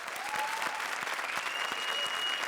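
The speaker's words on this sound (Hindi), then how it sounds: "जोरदार तालियां" A studio audience on a comedy show claps in a dense, sustained burst of applause, steady and fairly loud throughout.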